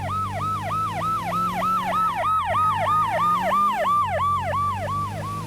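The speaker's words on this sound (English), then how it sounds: "in San Francisco and London, you'll hear the sirens of emergency workers in the distance." Wailing emergency sirens from the San Francisco and London city streets of Metropolis Street Racer, a steady rising-and-falling electronic wail repeating about every third of a second over a low engine hum, continuous and fairly clear.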